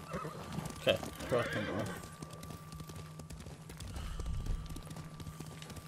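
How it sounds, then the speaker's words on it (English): A horse whinnies and hooves clop amid background sounds in the video game Ghost of Tsushima, with someone talking briefly over them. "Oh, my damn horse."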